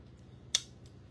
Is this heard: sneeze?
no